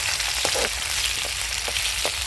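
Onion, green chili and curry leaves fry in hot oil for kanda pohe, a brief steady crackling hiss with a few faint pops, close and even throughout.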